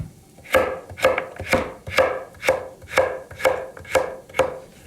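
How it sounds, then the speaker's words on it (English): A knife chops hard carrot and fennel on a board for a one-pot Asian-style vegetable dish. Nine crisp, evenly spaced chops land close and loud at a steady rhythm, with no talking. "The carrot is very hard, the fennel, so these are the next vegetables to chop."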